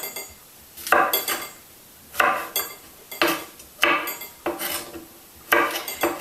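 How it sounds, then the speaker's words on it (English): Knife blade chopping mushrooms into bite-sized pieces on a board, in quick bursts of two or three close, crisp taps separated by short pauses, with no talking. "I'll just sort of chop any brown bits off and chop those into bite-sized pieces"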